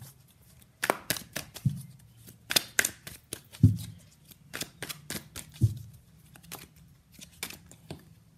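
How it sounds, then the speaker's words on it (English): Tarot cards are shuffled and pulled from a deck in a series of crisp, close flicks, snaps and riffles, irregularly spaced with brief pauses and no talking. "let's pull some cards from universe where this connection is headed in near future"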